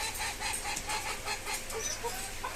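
Farm hens and roosters cluck in a busy, continuous chorus, many overlapping short calls close by with a steady low hum underneath.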